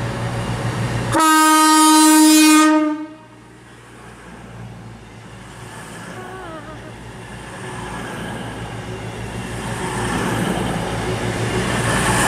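A class 221 passenger train sounds its horn loudly for about two seconds, then rumbles past with a lower, steady rolling roar that slowly swells toward the end.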